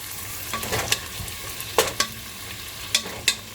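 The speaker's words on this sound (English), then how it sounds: "Gonna add that garlic in there." Garlic sizzles softly in a pan for chili beans, with a steady low fry broken by several sharp stirring scrapes of a utensil.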